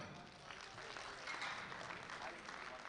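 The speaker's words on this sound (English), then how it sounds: "big round of applause for Rich Wenner" Audience applause at a USA Powerlifting Open Nationals meet honoring an Arizona Powerlifting Hall of Fame lifter, a steady, moderately distant wash of clapping from a crowd that holds evenly for about three seconds.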